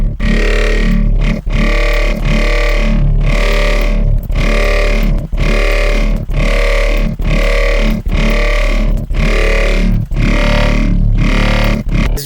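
Loud, distorted dubstep growl made in the Serum synth, repeating in a steady rhythmic pattern, heavy wobbling bass with gritty, roaring midrange, no voices.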